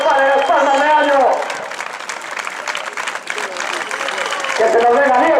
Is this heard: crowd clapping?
yes